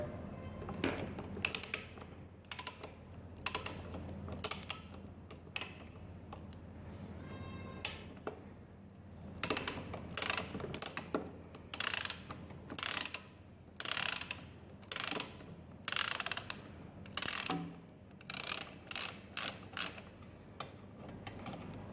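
A ratchet wrench loosening bolts on an electric three-wheeled motor bike's brake during pad replacement: close, loud rapid clicking strokes in repeated bursts, sparse at first and then quick and steady, with no talk.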